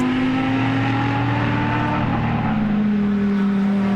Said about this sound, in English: As now you can see the Lamborghini navigating the final part of the race and the racetrack itself.